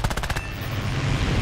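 The aircraft guns of a Fury Mk I in War Thunder air arcade fire a loud, rapid machine-gun burst that lasts under half a second, followed by a heavy, steady engine roar.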